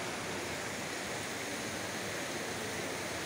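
Water of the Trevi Fountain in Rome pouring and splashing at dawn, heard as a constant, dense, loud rush with no breaks and no voices.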